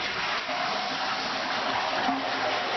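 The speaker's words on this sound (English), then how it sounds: "So as I flush the toilet" A toilet is flushed, giving a steady, rushing gush of water that stays at an even level for the whole stretch.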